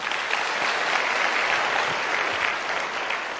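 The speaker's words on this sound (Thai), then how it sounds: "ปรบมือทุกท่านหน่อยนะครับ" An audience claps steadily at a Thai business seminar, a dense, even patter of many hands sustained throughout with no voices on top.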